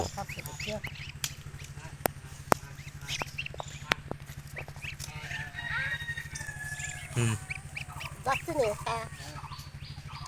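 Young goose chicks honk and peep in a rapid, continuous chatter close by, with a few sharper calls standing out, while people talk over them throughout.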